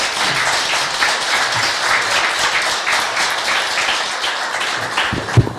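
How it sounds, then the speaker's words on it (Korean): An audience welcomes a speaker with steady, dense applause at a live political talk, many hands clapping at a constant level for several seconds, closing with a sharp thump. "박수로 맞이해 주십니다."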